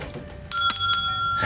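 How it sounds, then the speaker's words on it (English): A dinner bell rings sharply and close by, a bright metallic ding struck a few times in quick succession with its tone ringing on afterward, loud against a quiet room. "That was dinner bell?"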